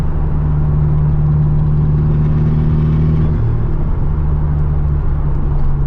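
A Nissan Silvia Sileighty engine pulls in second gear from inside the car, a loud steady drone with a clear pitch shift midway.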